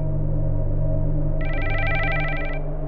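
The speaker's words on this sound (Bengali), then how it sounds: "মোবাইলের শব্দে ঘুম ভাঙল" A cartoon mobile phone rings with a steady electronic trill lasting about a second, loud over a low continuous background hum and music bed.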